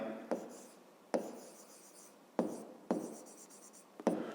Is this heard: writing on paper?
yes